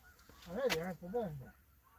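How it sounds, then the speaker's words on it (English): Geese honk in flight, two or three drawn-out nasal calls close together, moderately faint outdoors with little else around. "Stupid geese are going the wrong direction."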